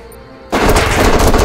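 Gunfire in the video game Jagged Alliance: Back In Action, loud dense automatic fire that starts abruptly and continues without pause after a quiet moment.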